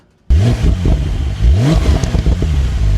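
Porsche 911 Carrera 4S of the 992.1 generation revving hard, with a loud, close exhaust rising and falling through several throttle blips and rough crackling bursts between them, starting abruptly after a brief silence.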